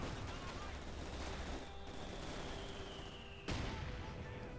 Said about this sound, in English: Little mortar fire there.